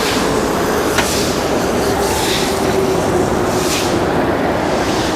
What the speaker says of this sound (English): there's a train just above me.